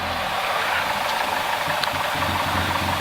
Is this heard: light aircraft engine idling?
yes